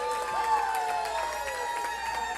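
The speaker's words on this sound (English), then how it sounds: "the crowd on the Trojan side is going crazy" Spectators at a high school volleyball match between San Isidro and San Perlita cheer loudly and continuously, with whistles and shouts carrying over the sustained crowd noise.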